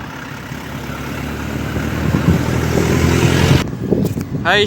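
A vehicle engine idles close by, a steady low rumble that runs throughout, with some clattering and a brief higher sound near the end.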